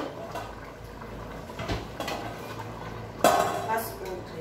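A plate and spoon clink and clatter a few times while oxtail broth is being served, with a sharper knock near the end over quiet kitchen background and faint talk.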